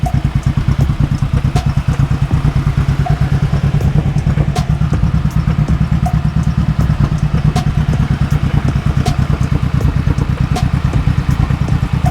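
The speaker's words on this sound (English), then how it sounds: "Honda Shadow 1100" A 2007 Honda Shadow 1100 motorcycle converted to a three-wheeler idles nearby at night, its engine running in a steady, loud low pulsing throb with faint rattles over the full length and no talk.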